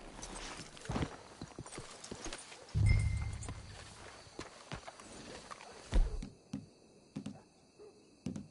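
Horses' hooves clip-clop on the ground in the video game Red Dead Redemption, scattered footfalls with a brief louder rumble, heard without talk.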